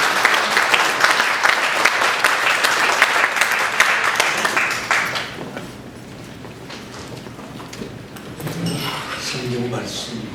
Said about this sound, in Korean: 힘찬 박수 보내주시기 바랍니다.